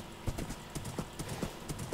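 Horse galloping in Minecraft, a quick regular clip-clop of hooves thudding several times a second, close and steady throughout.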